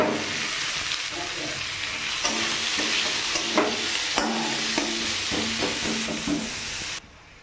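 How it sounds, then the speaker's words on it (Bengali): Chopped onion, cumin seeds and bay leaf fry in a hot pan, giving a steady, close sizzle broken by repeated spatula scrapes and stirs before the sound cuts off abruptly. "পেঁয়াজ, জিরে, তেজপাতা সব ভাজা ভাজা হয়ে গেছে"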